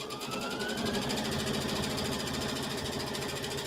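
Sewing machine stitching a quilted heart bag, a loud, close, steady mechanical whir with rapid regular needle pulses running unbroken throughout.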